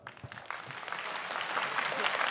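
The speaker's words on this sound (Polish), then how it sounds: "możecie bić brawa, prosiłbym." Audience clapping at a FAME 18 fight press conference, starting scattered and swelling into steady, fairly close applause that builds toward the end.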